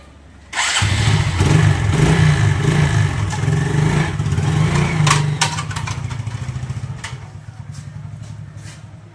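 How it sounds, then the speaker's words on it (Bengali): A motorcycle-like motor vehicle engine starts abruptly and idles loudly and close with a rough, knocking clunk, then the running sound fades out and leaves a few sharp taps against quiet background. "গাড়িটা কি একটা ঘটং ঘটং আওয়াজ হচ্ছে গো"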